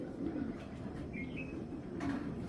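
A pair of domestic pigeons offered for sale, Rajshahi breeds, cooing in low, steady throaty murmurs close by, with a faint chirp-like call in the middle and a soft background hum.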